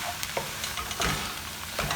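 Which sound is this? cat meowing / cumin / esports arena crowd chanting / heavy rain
cumin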